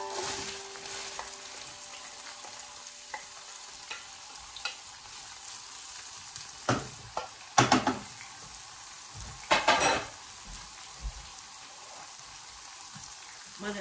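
Chopped onion frying in a pan while cooking beef osso buco, a steady soft sizzle with crackling spits and a few louder stirring clatters in the middle, no talk.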